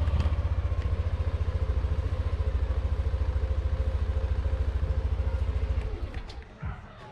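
A Yamaha NMAX scooter with a suspected side stand sensor fault idles close by with a fast, even engine putter that stumbles and dies near the end.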